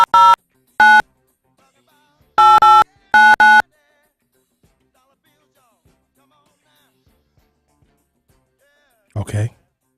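A telephone rings in short harmonic bursts, a single ring followed by paired rings, loud and close, then a long quiet stretch before a brief voice at the end.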